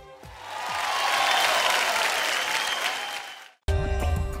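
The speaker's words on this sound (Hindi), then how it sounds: "एक बार सर के लिए जोरदार तालियां हो जाए" Loud studio audience applause on the Indian Idol 13 singing show, a dense sustained wash of many hands that stops abruptly near the end and gives way to a burst of music.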